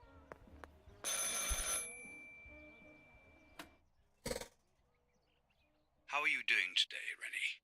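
A telephone bell rings in a photorealistic psychological horror game, a loud harsh burst followed by a brief second ring, with quiet room tone, a few clicks and a later voice around it.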